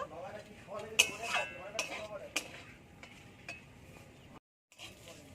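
Fried onions being stirred with a metal spoon into a potato and water spinach dish in a pan, sharp clinks and scrapes at irregular intervals over a soft sizzle, close by, with someone talking throughout.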